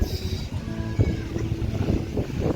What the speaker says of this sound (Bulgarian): Днеска има малко вълни, в принцип няма изобщо. Има малко вятър днеска.